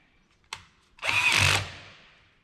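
A power impact driver tightens the propeller on a Bianca 27 sailboat: a sharp click, then a close, loud whirring burst of about half a second that trails off.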